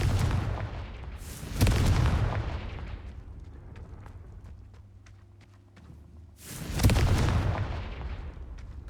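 Confringo explosion spell cast in a Hogwarts video game, two heavy booming blasts a few seconds apart, each with a rumbling tail that fades slowly, loud and close.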